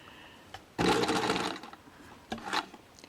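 A sewing machine stitches bias tape onto a baby slip dress in two bursts, a longer run followed by a short one, close and fairly quiet with pauses between.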